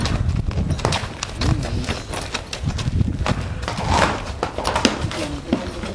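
A horse at a breeding farm in Ñuble, Chile, is led inside, its hooves clip-clopping in a steady, close rhythm over a busy outdoor background, with no talk over it.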